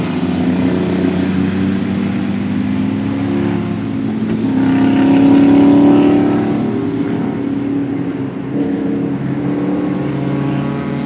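Race cars in a Lemons endurance race at CMP in 2016 drone past trackside at turn 1, their engines a continuous loud rumble that swells as one car passes close in the middle.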